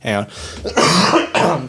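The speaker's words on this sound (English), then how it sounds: "It was a cough." A single cough from a podcast host on a comic-book panel show, short and harsh, surrounded by close-miked talking.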